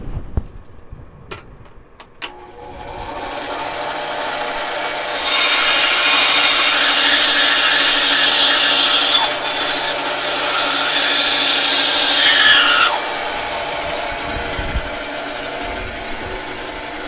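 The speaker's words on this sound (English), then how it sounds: "I'm gonna use the bandsaw just to take this off." A bandsaw cuts through a wooden knife handle piece, a loud steady rasping whine lasting about seven seconds, preceded by a few sharp clicks and a low motor hum that continues after the cut ends.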